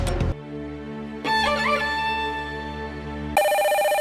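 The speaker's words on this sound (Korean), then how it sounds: "며칠 뒤 가족들이 임시로 머물고 있던 도쿠시마현 친척집에 전화 한 통이 걸려왔습니다" A telephone rings at a relatives' house in Tokushima Prefecture, Japan, its tonal electronic ring coming in bursts with pauses between, loud and alone.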